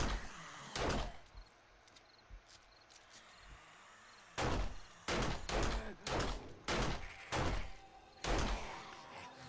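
Gunfire in the zombie survival game 7 Days To Die, with an early lone shot and then a run of loud, evenly spaced single shots, each sharp bang ringing out briefly, under a low ambient background.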